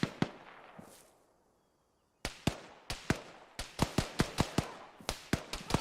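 Frag grenades and gunfire in Arma, sharp loud cracks and blasts, a few early then a quiet gap, followed by a rapid string of close bangs.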